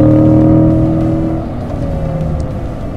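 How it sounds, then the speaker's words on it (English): A loud 2020 Corvette C8 engine drones close by on a track, its pitch dropping as the revs fall back before building again through the gears. "Accelerate up to turn 1, let's get up to 5th gear."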